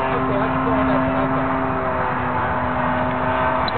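A DLE-30 gas engine on a 70-inch 3DHS Slick RC plane drones steadily at a constant pitch throughout, loud and unbroken, with no change in its tone.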